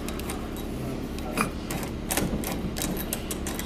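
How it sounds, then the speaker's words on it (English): Screws driven in while a door lock is installed, a close rapid ticking and clicking run with a few sharper knocks, steady throughout with no talk. "while I screw everything in"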